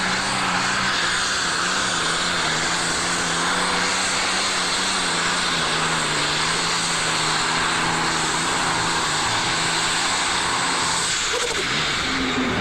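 A 7500 super stock pulling tractor at the 1988 Ohio State Fair roars with a loud, steady engine drone that holds for the full stretch, surging briefly near the end.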